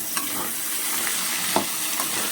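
Diced potatoes frying in a pan, a steady broadband sizzle with a few soft stirring scrapes, close and fairly quiet, no voices.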